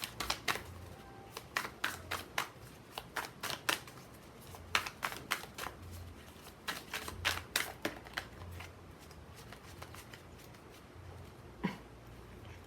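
Tarot cards are shuffled by hand in a quiet room, crisp riffles and slaps that come in repeated bursts and pauses, close and clear with no talking.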